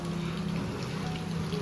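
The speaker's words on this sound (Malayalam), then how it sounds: "നല്ലൊരു മഴ പെയ്തു, ഇപ്പോൾ ഒന്ന് ജസ്റ്റ് കുറഞ്ഞു. പക്ഷെ ഇനിയും പെയ്യും" Steady rain falls outdoors as a dense, even hiss of drops on surfaces, continuous throughout with no talk.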